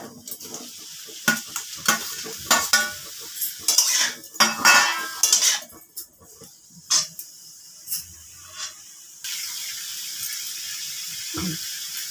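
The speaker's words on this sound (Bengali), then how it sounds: "বাটারটা দিয়ে পনিরগুলোকে একটু ভেজে নিচ্ছি।" Small pieces of paneer frying in butter in a pan give a bright sizzle broken by loud, repeated scraping and clinking of a spatula stirring, with a steadier hiss toward the end and no talking.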